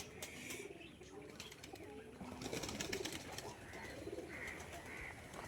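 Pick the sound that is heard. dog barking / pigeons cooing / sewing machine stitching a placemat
pigeons cooing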